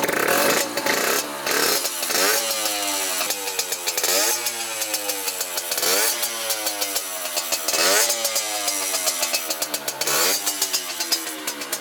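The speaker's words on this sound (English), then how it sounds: "Not gonna lie, the motor does sound a little noisy." A cold Yamaha YSR50 mini bike engine idles on choke, then revs repeatedly with quick throttle blips, a loud, raspy two-stroke buzz that rises and falls in regular bursts, close by, with no talking.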